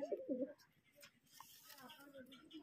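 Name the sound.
Madrasi pigeon cooing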